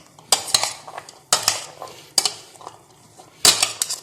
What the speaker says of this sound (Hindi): सब कुछ हम अच्छी तरह से मिक्स कर लेंगे।